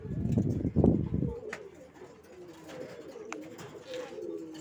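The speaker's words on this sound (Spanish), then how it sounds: "¿Cuántas palomas aquí?" Pigeons in a loft give low, rhythmic coos, loudest at the start and then continuing softer, with faint bird chatter behind them.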